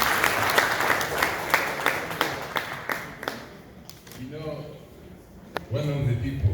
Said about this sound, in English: Members, another applause for him.